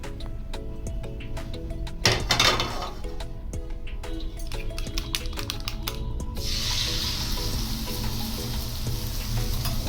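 Egg mixture for an egg roll sizzles on a hot tawa, a steady frying hiss that swells after a brief clatter, with faint ticking utensil sounds and soft background music throughout.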